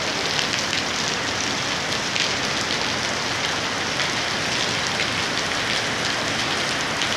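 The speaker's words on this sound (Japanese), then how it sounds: "ちょうどね、雨が降り始めましたから" Steady rain pours at Ayala Mall in Cebu, a dense, loud, continuous hiss of drops hitting the surfaces nearby, with no thunder and no voices.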